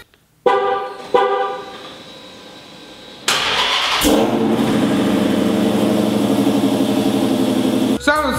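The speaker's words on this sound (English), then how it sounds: "I gave you all a little teaser of a cold start, and it sounded something like this." Car cold start with long tube headers and a Stainless Works exhaust: a starter whir and a couple of short engine catches, then the engine fires into a loud, close, steady high idle with a blip near the end.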